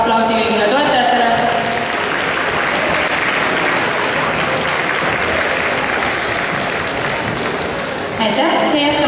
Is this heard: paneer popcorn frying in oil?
no